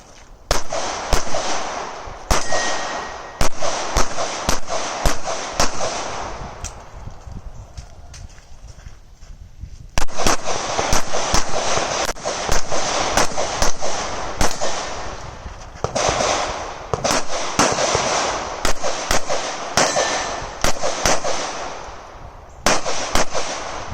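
Glock 43X pistol shots at a USPSA match crack out in rapid strings of sharp, loud reports, with short pauses between bursts as the shooter moves through the stage outdoors.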